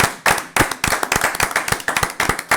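A church congregation claps rhythmically in praise of the Lord, many hands striking together in a steady, fairly fast beat.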